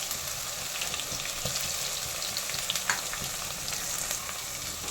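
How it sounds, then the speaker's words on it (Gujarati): Ginger and garlic sautéing in hot peanut oil over low heat for a home-style brinjal and potato curry, a steady close sizzle and crackle with faint stirring, no voices. "આપણે અહીં હલકા એવા સાતળી લઈશું આદુ લસણ"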